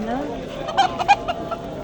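Live chickens cluck in short, sharp bursts at a poultry market in Andijan, several close calls over a low market murmur while someone speaks.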